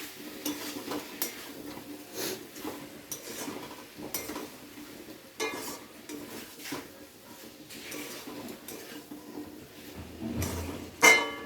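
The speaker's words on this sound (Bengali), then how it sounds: "এবারে ঢাকনাটা খুলে একটু নেড়ে চেড়ে দেবো।" Potato and pointed gourd fry in a pan as a spatula stirs them after the lid comes off, giving repeated soft scrapes and clinks over a faint background sizzle, ending with a louder clatter.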